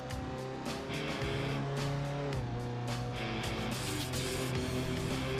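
An old Alfa Romeo in the racing game Assetto Corsa drives on a lakeside road, its engine holding a steady note that drops briefly as it shifts, with faint tyre noise and no talk.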